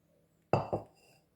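Scooped tomato pieces go into a bowl, giving two quick, close clinks of dish and utensil followed by a short fading ring in an otherwise quiet kitchen.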